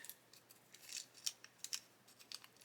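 A plastic parts bag for a Hachette Avro Lancaster B.III Dambuster model kit is snipped open with scissors, a few close, sharp crisp cuts and crinkles over quiet background.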